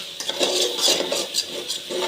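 Two eggs are stirred in a pan for Hakka noodles: a spatula scrapes and taps the pan in quick, rhythmic strokes, close and fairly loud.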